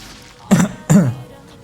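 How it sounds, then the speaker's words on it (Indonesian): Two throaty coughs in quick succession, close and fairly loud, with quiet room tone around them and no talking. "Sorry batuk."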